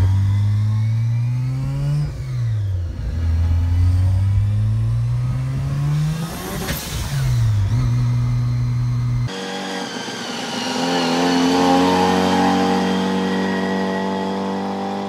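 A loud, close Mazda RX-2 turbo 13B rotary engine, mild-ported, revs up and drops back several times with sweeping pitch, then settles into a higher, steadier roar. No talking.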